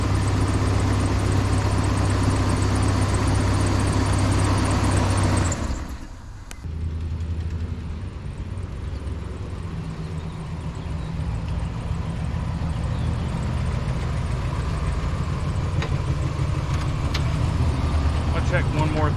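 A truck engine runs loudly and steadily while the truck is moved, dipping briefly around the middle before settling back into an even rumble.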